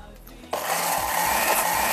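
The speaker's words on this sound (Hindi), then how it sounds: "प्याज और जीरे को जो सौते किया था ऑयल में वो दही के साथ ब्लेंड कर रहे हैं।" A kitchen blender starts abruptly and whirs steadily, blending sautéed onion and cumin with yogurt, its loud motor whine running continuously after a brief quiet moment.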